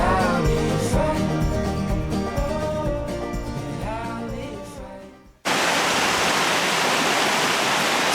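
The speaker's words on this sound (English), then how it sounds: "So this is our bit of the river. You can see all the waterfalls and everything down here." Waterfalls on a river swollen by a storm in Portugal roar as a steady, loud wash of water that takes over abruptly after a stretch of music.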